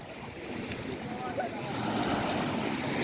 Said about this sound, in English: I wait until the wave come back again.